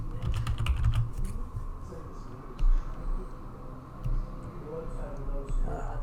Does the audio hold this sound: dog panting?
no